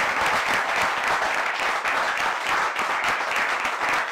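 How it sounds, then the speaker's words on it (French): Steady, loud studio audience applause at a French-language life-lesson talk show, an even wash of many hands clapping throughout with no break. "Allez, une fois de plus, on va applaudir."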